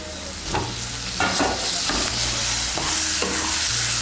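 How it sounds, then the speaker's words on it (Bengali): Chopped tomato being stirred into spices in a frying pan for a Bengali potato and aubergine curry: steady loud sizzling with several scraping stirs of the spoon, close up and without speech. "টমেটো কুচিটাকে মিশিয়ে নেব"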